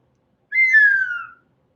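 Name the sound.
whistle blown for correct trivia answer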